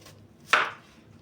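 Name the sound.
chopping food finely with a knife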